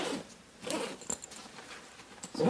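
An Eagle Creek Cargo Hauler small duffel bag being zipped shut in a few quick, quiet rasping pulls of the zipper, close up with no talking.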